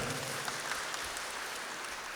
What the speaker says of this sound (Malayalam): നമുക്ക് നല്ലൊരു ബിഗ് ക്ലാപ്പ് കൊടുക്കാം ഒരാൾക്ക്